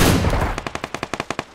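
Gunfire in the battle royale game PUBG Lite: a loud burst of evenly spaced shots, about nine rapid cracks in a steady rhythm, following a noisy opening with no talk.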